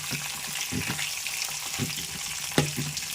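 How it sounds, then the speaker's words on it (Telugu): Dried red chillies and green chillies dropped into hot tempering oil, giving a close, steady sizzle with a few crackling bursts and one sharper pop. "ఇప్పుడు ఎండుమిర్చి పచ్చిమిరపకాయలు కూడా వేసేస్తున్నానండి."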